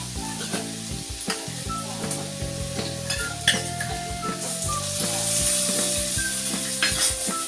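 Garlic paste hits onions already fried red in a pan for chicken kosa, giving a steady, close, loud sizzle with scraping and clinking from stirring throughout.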